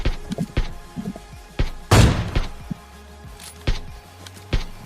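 Sniper rifle fire from an AWM in a shooter video game, one loud booming shot standing out near the middle among scattered sharper gunfire thumps, close and punchy with no talking.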